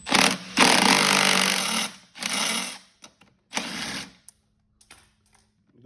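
A 13mm socket on a power driver spins a pulley nut off a Toro Time Master mower in several loud, whirring bursts of varying length, followed by a few faint clicks and handling sounds.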